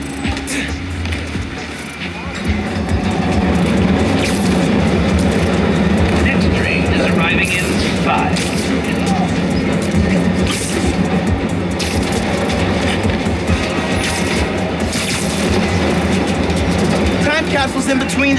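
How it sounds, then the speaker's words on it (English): A train in the Spider-Man: Miles Morales game rumbles in with a loud, sustained roar and rattling, building after a quieter start and continuing steadily, with faint voices underneath. "Next train is arriving."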